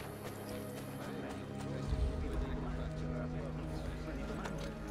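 Horse hooves clip-clop at a steady trot in the Assassin's Creed 2 video game, a continuous rhythmic patter under game ambience while someone talks over it.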